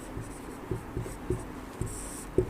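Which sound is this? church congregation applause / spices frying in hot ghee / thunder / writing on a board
writing on a board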